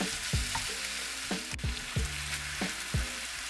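Ground beef for tacos sizzles steadily in a pan, with a few sharp pops and stirring scrapes scattered through the bright frying hiss.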